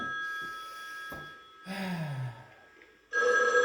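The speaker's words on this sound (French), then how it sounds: "un coup de téléphone encore." A telephone rings in a home office during a spell of remote work: bursts of electronic ringing, a strong one near the end and another in the middle, with quiet gaps between and no talk.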